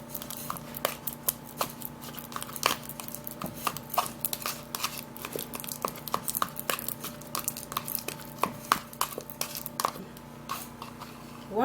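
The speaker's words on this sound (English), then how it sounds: "Now we're just going to be mashing this banana." Banana being cut into pieces and mashed in a bowl, with a string of sharp, irregular taps and scrapes of utensil against dish, close and fairly quiet over a faint background hum.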